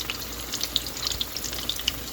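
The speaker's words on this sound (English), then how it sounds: "I usually fry these 2 to 3 minutes." Jamaican saltfish fritters sizzle and crackle steadily in hot oil, with scattered sharp pops over a constant frying hiss, close and alone.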